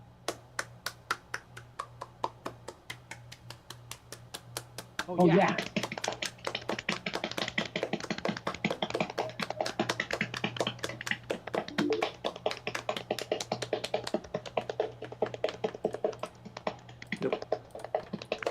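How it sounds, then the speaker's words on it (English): Soft, quiet clapping of hands during a late-night Restream sendoff stream, rapid light taps running steadily for about thirteen seconds after a brief quieter stretch, with a short spoken interjection. "Let's all give a big, silent, because it's late at night, round of applause for Restream."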